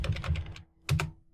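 Quick bursts of computer keyboard typing while entering a network scanning command, a run of close clicks followed by a brief pause and a final cluster of keystrokes.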